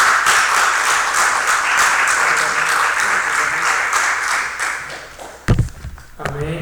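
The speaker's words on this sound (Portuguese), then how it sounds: "Vocês possam receber ele com uma salva de palmas" A church congregation gives its pastor a sustained round of applause, dense and steady for several seconds before it breaks off into a few louder knocks and a voice.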